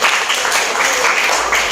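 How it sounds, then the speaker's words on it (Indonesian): A short burst of classroom applause, many hands clapping together in a fast, irregular patter, fairly loud and close. "Tepuk tangan untuk Mas Andre."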